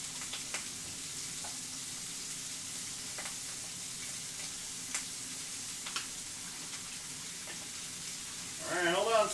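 Sausage sizzles in a hot frying pan, a steady close crackle with scattered pops and ticks, broken near the end by a brief louder scrape or stir.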